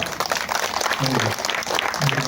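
A church congregation at a feast-day celebration claps in a brief, dense burst of applause, with a voice briefly audible over it.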